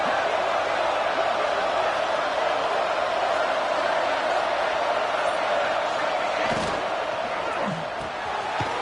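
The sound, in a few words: football stadium crowd noise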